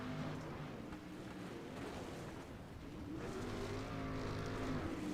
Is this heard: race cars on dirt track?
yes